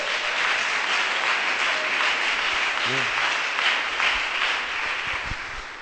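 A church congregation applauds for Jesus during a worship service, a broad, sustained patter of many hands, steady and fairly loud, with a brief voice surfacing midway.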